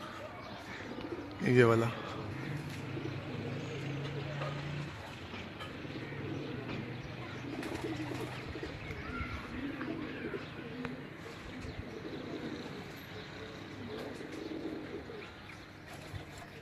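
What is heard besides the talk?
pigeon sitting on the rooftop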